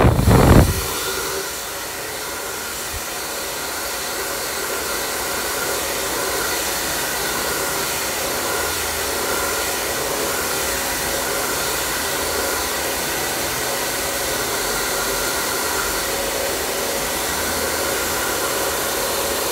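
Hair dryer running continuously while blow-drying hair, a steady close whooshing hiss from start to finish after a brief handling noise at the beginning, with no speech.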